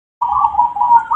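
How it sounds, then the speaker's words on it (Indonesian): A local perkutut, or zebra dove, gives a steady, fairly loud trilling coo that runs alone for about a second after a brief silence. "Ini perkutut kan pada bunyi begini."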